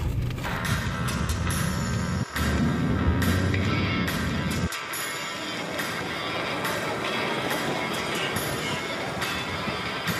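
A train at Bangalore railway station fills the platform with a loud, steady rumble and hiss, a heavy low roar that cuts off abruptly partway through and leaves a broad hum of station noise.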